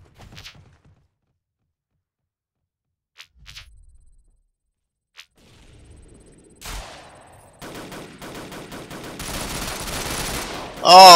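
Gunfire in the online shooter Ghost Recon Online: a few faint isolated shots, then a loud sustained burst of rapid automatic fire building toward the end.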